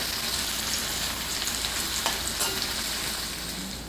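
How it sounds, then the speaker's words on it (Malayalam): Onions for North Indian chicken masala sizzle and crackle in hot oil over a low flame, a steady close frying hiss with occasional light stirring scrapes, no voices. "ഗോൾഡൻ ബ്രൗൺ ആക്കി എടുക്കാം ഫ്ലെയിം കുറച്ച് വെച്ച് വറുത്തെടുത്താൽ മതിയാകും"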